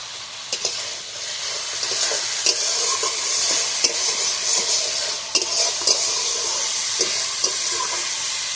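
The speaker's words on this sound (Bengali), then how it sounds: "মশলার সঙ্গে ভালোভাবে কষিয়ে নেবো।" A fried hilsa fish head is stir-fried with spices in a pan, giving a steady close sizzle with repeated sharp scrapes and clicks from stirring. No one speaks.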